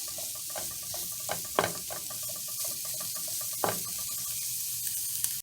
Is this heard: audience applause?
no